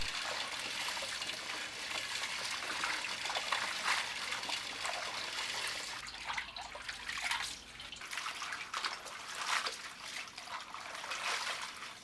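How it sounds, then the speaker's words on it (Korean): Young radish greens and napa cabbage greens are washed by hand in water, with steady trickling, splashing and dripping close up throughout and no talk. "손질한 열무와 얼갈이를 함께 씻어줍니다."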